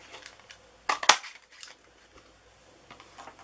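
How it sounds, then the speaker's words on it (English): Sharp crunching snaps from a large Daisy paper punch cutting through Whisper White cardstock, a quick double clack near the mic in an otherwise quiet craft setting. "let's punch a Whisper White"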